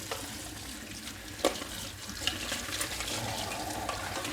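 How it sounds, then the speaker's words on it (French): Cold tap water runs steadily while Tunze 9410 DC protein skimmer parts from a reef aquarium are rinsed in a sink, with a constant close splashing hiss and a few clinks from handled parts. "Je nettoie à l'eau froide."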